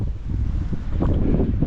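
Wind blows outdoors near a workshop in a steady, loud rumble of gusts hitting the microphone, continuous and without any voices.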